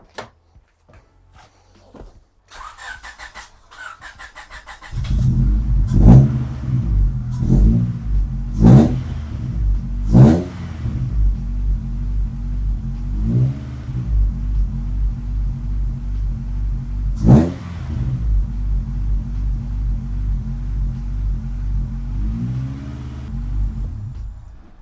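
A car fitted with an aftermarket AliExpress intake starts up after a few clicks, then idles with a deep rumble, punctuated by several sharp revs and crackles, loud and close with no talking.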